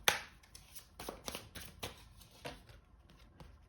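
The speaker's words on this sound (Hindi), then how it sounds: "एक और कार्ड निकालेंगे।" Soft, quiet rustling and flicking of a tarot deck being shuffled by hand before a card is drawn, a run of light papery snaps with no voices.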